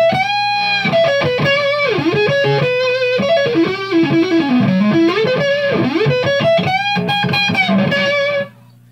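An overdriven electric guitar on the neck pickup plays a fluid, bluesy lead through a Marshall Vintage Modern 2466 amp, loud and smooth with bends and held notes, ending in a sudden cut to silence.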